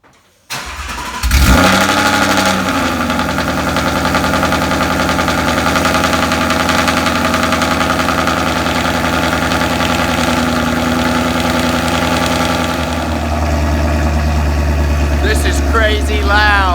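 A car fitted with Texas Speed long tube headers starts up and settles into a steady, very loud, rumbling idle that drones on with little change throughout.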